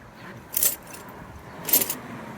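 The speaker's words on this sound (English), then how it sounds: "Alright, I got the 10 millimeter wrench." A 10 millimeter wrench handled during a brake caliper change on a Cutlass, giving two brief light metallic clinks about a second apart, fairly close and not loud.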